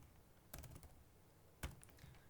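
Code being typed on a computer keyboard, heard as two faint short clusters of key clicks against a quiet room background.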